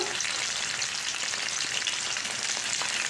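Onions and curry leaves fry in a pan, producing a steady, close, continuous sizzle with faint crackles throughout.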